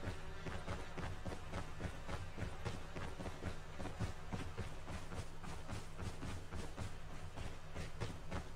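A tank in Call of Duty Mobile rolls closer: a steady, rhythmic mechanical clanking and rumble, low and continuous, quite faint and unbroken throughout.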